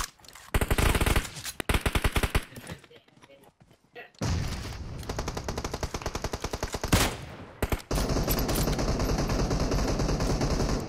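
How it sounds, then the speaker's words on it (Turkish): Gunfire in the PUBG Mobile video game crackles in loud, rapid automatic bursts, pausing briefly before resuming in long sustained volleys, with a voice talking in places. "Arkadan bana sıkıyorlar lan."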